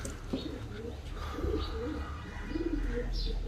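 Kept pigeons, some of them sick with an infection, give soft, rolling coos and a few faint chirps. The calls sit under a constant noisy background hum.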